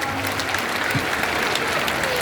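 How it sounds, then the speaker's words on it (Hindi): Sustained applause from a large crowd at an Arya Samaj foundation day celebration in Delhi, a steady dense clatter of clapping hands filling the whole moment with no pauses. "एक बार जोरदार ताली तो बजाइए आप।"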